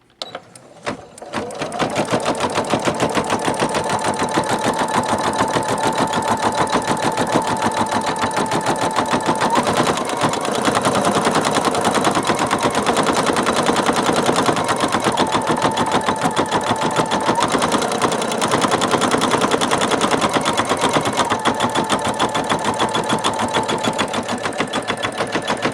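Singer Futura embroidery sewing machine stitching steadily and close up, a continuous rapid mechanical whir and needle chatter running unbroken for the whole stretch after a brief quiet start.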